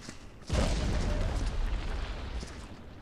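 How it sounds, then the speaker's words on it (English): A dynamite explosion in the video game Viscera Cleanup Detail sets off one sudden heavy boom, followed by a long rumbling roar that slowly fades. "Are we getting any residual explosions, or is it all one?"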